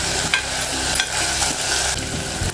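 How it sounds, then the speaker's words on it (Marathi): Half a medium tomato sautés in oil for dalimbi rice, a dense continuous sizzle up close with soft scraping stirs running through it. "टॅमॅटो पण चांगला परतून घ्यायचा"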